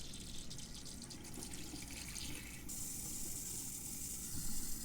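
Water runs steadily from a tap into a plastic sample bottle, a continuous close hiss whose tone brightens partway through as the stream changes, with no speech.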